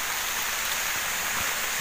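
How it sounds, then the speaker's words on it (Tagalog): Heavy rain pours down in a thick, unbroken roar, loud and close, with occasional heavier drops in the wash. "Grabe ang ulan."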